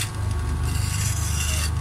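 A headlight is sanded with 120-grit sandpaper, a close, loud, rapid rasping rub with an even back-and-forth rhythm throughout.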